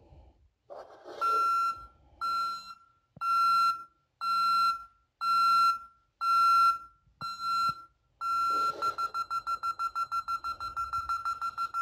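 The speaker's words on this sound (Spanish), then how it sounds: "vamos a hacer una prueba separando este contacto magnético para que se active la alarma" A Vista 48LA Resideo residential alarm system, triggered by separating a magnetic contact, sounds nearby: a series of loud, evenly spaced beeps, then a faster continuous pulsing tone near the end.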